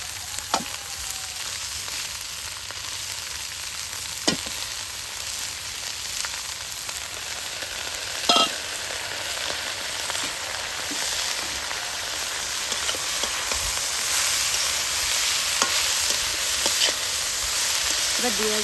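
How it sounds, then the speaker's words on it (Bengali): Chopped cabbage frying in a pan with ginger and green chilli, a steady close hiss of sizzling oil with a few sharp clinks of stirring throughout. "এবার যে বাঁধাকপিটা কেটে রেখেছিলাম দিয়ে দিচ্ছি"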